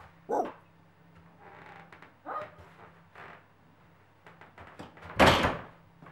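A dog gives a few separate sharp barks, spaced seconds apart and fairly close, with a louder burst near the end alongside a door-like knock over a quiet indoor hum.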